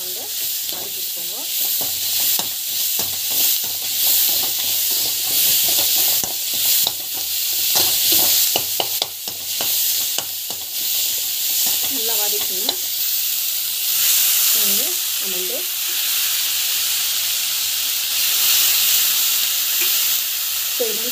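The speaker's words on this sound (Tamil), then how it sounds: "நல்லா வதக்கி டமாட்டோ வந்து ஆட் பண்ணிக்கோங்க. நல்லா வந்து வதக்கிட்டுக்கோங்க" Tomatoes sautéed in a pan, a continuous loud frying hiss with occasional stirring scrapes and clatters running throughout, while a voice talks intermittently over the cooking.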